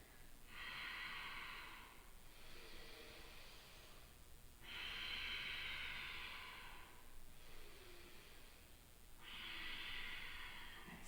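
Slow, steady breathing during a yoga hip and hamstring stretch, with three long, soft, airy breaths heard close up, each rising and fading in a calm rhythm over a quiet background.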